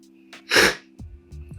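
A single loud, close sneeze bursts out after a short inhale, followed by a soft breath, over a faint steady electronic hum.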